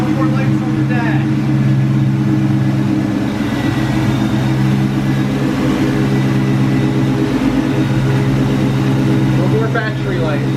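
A rebuilt 2003 Mustang Cobra with a Kenne Bell supercharger idling steadily, a constant low rumbling drone close by, with people talking over it.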